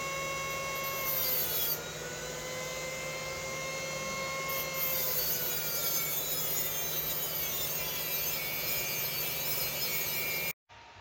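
A small hand tool cutting metal on a Camaro and throwing sparks, giving a steady close rasping, grinding scrape that runs almost without a break before cutting off near the end.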